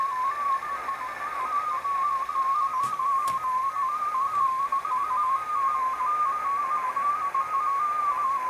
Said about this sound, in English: this Morse code signal that just added to the confusion of the digital mode here